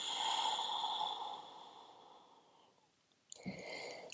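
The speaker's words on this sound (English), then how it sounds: "One more full breath in here. Staying for the exhale." A slow, full exhale during a gentle yoga stretch: a soft, airy breath that gradually fades, then a short sniffing inhale near the end, close and quiet with no talking.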